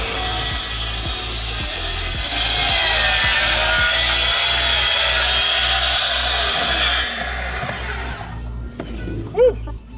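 A plunge saw cuts through composite decking laid with hidden fasteners, a loud sustained whine with steady low motor rumble for about seven seconds before spinning down, followed by brief voices.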